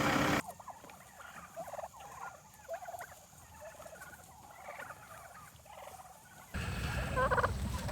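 Organic turkeys on pasture gobble in repeated bursts against a quiet outdoor background, with a louder rustling or engine-like noise rising near the end.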